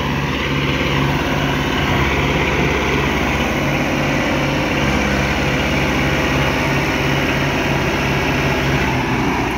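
A tractor engine running steadily as it comes to pull a truck out of thick mud, giving a loud, continuous throbbing drone with little change across the whole stretch.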